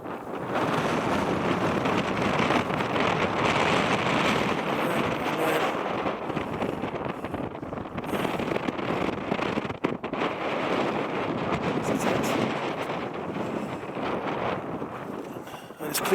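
Wind buffeting a hilltop at a sub-zero winter snow camp in the UK, a steady loud roar with gusty rumble battering the microphone throughout.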